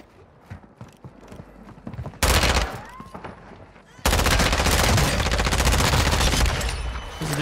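Gunfire in Warzone, with scattered shots early and then loud sustained bursts of rapid automatic fire that carry on almost without a break, close and harsh.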